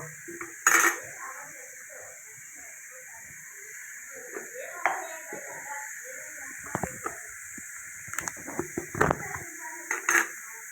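A spoon scrapes and clinks against a pan while momos curry is stirred, with faint sizzling beneath, sporadic metallic taps and scrapes close by.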